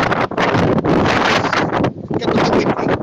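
Strong wind roars and buffets the microphone in loud, gusty bursts, with a brief lull before the rush picks up again.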